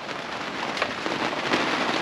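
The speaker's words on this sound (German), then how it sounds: "Es regnet immer noch." Steady, dense rain pouring down in the Gambier Islands, a continuous hiss of drops striking surfaces close by, with no voices.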